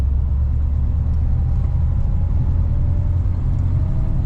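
A 1941 Cadillac Series 60 Special Fleetwood driving on dry winter roads in Minnesota, a steady low engine rumble with road noise, continuous and loud from inside or close by.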